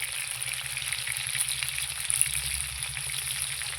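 Potato pieces with salt and turmeric fry over a wood fire, giving a steady close crackling sizzle with a faint low rumble of the flames beneath, no voices.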